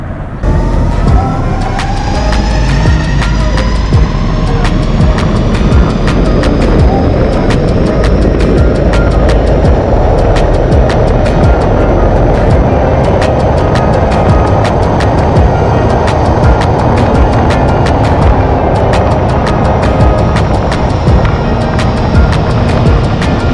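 An electric skateboard runs at full throttle on the streets of Manhattan, a loud, continuous whine and rush of wind and traffic that holds steady throughout, with sharp clicks and rising tones over the roar.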